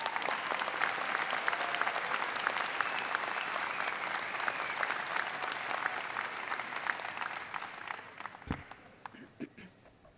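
Sustained applause from a graduation ceremony audience fills a large venue, dense at first and then thinning toward the end with scattered last claps.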